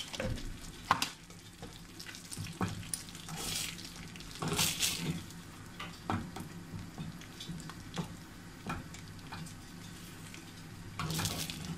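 Kuymak with melting string cheese stirred gently in a pan, a quiet soft sizzle broken by intermittent bursts of scraping and clinking from the stirring, with a brief splash of running water.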